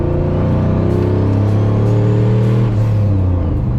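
A swapped, turbocharged 1999 Ford Ranger engine revs hard on a dyno, a loud, steady, close-up roar and rumble that holds for the whole stretch without letting up.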